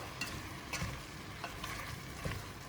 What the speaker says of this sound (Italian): mescoliamo ancora,